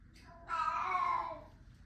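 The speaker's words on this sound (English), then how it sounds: "that's just my cat in the background." A pet cat meows once in the background, a drawn-out tonal cry of about a second that rises over a low hum and then fades.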